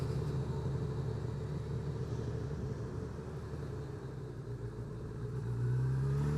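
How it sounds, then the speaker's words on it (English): A 2021 Honda CB1000R Black Edition being ridden at low speed on the throttle: a smooth, steady engine rumble close to the rider, dipping slightly and then swelling as the revs rise near the end. "even at low speed like that, just riding it on the throttle, it is very smooth"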